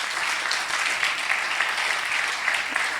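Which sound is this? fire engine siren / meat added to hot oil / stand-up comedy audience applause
stand-up comedy audience applause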